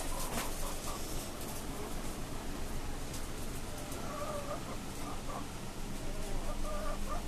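Native chickens clucking on a poultry farm, steady overlapping calls and clucks over a constant dense background of flock noise, with no speech heard.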